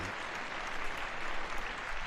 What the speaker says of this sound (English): And a big round of applause for June